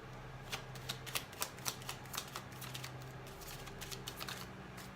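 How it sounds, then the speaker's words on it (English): A tarot card deck is shuffled close up, giving a run of quick papery riffles and soft flicks in an uneven rhythm against a low steady hum. "I do have to shuffle the deck because it gets the energies flowing."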